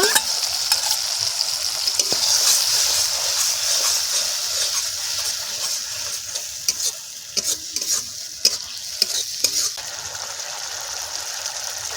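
Mustard paste and green chillies fry with tomato for a fish curry, a loud close sizzle with stirring that grows into clattering spoon scrapes and taps against the pan in the second half.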